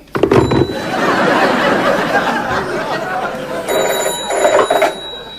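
A telephone bell rings in a comedy sketch, short bright bursts near the start and again toward the end, over a busy background of chatter and light laughter.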